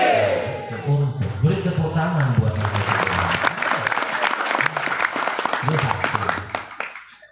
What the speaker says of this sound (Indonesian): Untuk beri tepuk tangan buat itu.